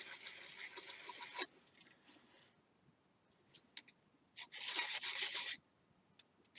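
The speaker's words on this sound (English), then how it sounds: "we're going to put it on our sanding block, and we're just going to sand it flat" A model rocket rotor part is rubbed flat on a sanding block, giving bursts of soft, close rasping scratches separated by quiet pauses.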